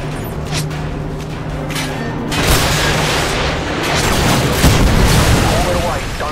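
AGM missile strikes from a UAV hit in Modern Warfare 2 Spec Ops, sending out rolling booms and explosive bursts under constant game noise and voices.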